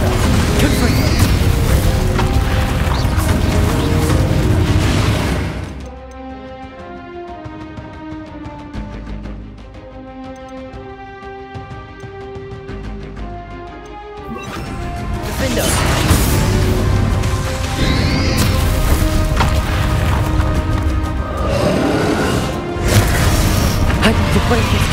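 Spell blasts in Hogwarts Legacy boom and crash loudly in bursts, separated by a quieter musical stretch in the middle, with a voice speaking over the action.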